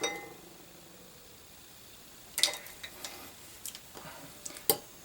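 A protein snack cake batter with egg and dark chocolate is stirred in a mug, giving a few scattered clinks and scrapes of a utensil against the sides, fairly close and otherwise quiet.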